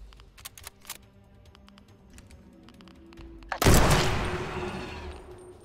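Gunfire in the video game USC: Counterforce, first a scatter of light rapid clicky shots, then a big loud blast with a long roaring decay.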